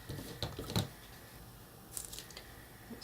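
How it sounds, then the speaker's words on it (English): Scissors snip paper while a slipcase is being built, giving a few short, sharp cuts and crinkles close by with quiet pauses between them. "Scissors are full of junk."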